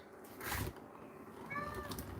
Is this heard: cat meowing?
yes